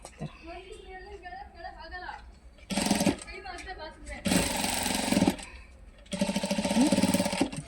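A sewing machine stitches slowly along the side seam of a ready-made top in three sustained whirring runs of a second or more each, alternating with a nearby voice talking.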